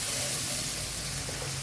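Spices sizzling in leftover oil from frying eggplant, a steady close hiss and crackle of frying that holds evenly throughout with no talk.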